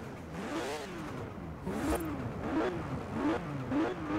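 Engine of a retro Porsche in the racing game Forza Horizon 4, with a synthesized tone and a turbo whistle, revs up and down repeatedly in rising and falling sweeps, fairly close and moderately loud.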